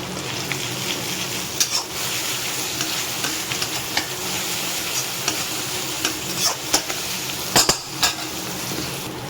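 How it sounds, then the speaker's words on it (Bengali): Nigella seeds hit hot mustard oil in a pan with a steady frying sizzle, while a spoon scrapes and clinks against the pan in short, scattered bursts. "তেলটা গরম হয়ে এসছে, এবার কালো জিরা দেবো।"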